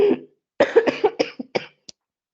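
A person coughs in a rapid series of harsh, close bursts after an opening cough and pause, tapering into shorter, fainter coughs and a final small throat sound.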